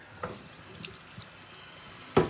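Chopped onion gets rinsed under a running kitchen tap, a soft steady water hiss in the sink with a few faint knocks and splashes, ending in a louder clatter, and no one speaking.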